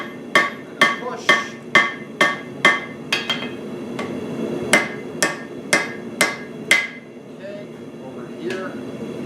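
A hammer strikes metal on an anvil in a steady run of about a dozen sharp, ringing blows at close range, then a pause and one last lighter hit; a faint hum sits under it.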